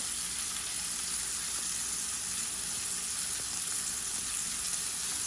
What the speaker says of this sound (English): Just checking the sear, and then I'll turn them over and cook them on the next side.